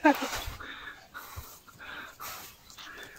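A dog on a mountain hiking trail up Mt. Batulao pants and whimpers nearby in soft, breathy bursts, faint and uneven, while people talk in the background.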